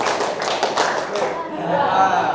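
A classroom group claps hands together in a few sharp, evenly spaced bursts, loud and close, before a teacher's voice carries on over a murmuring room.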